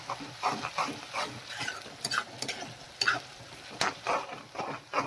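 Garlic and green chillies sizzle as they roast in a pan on the stove, a soft steady frying crackle broken up by repeated scraping and stirring strokes.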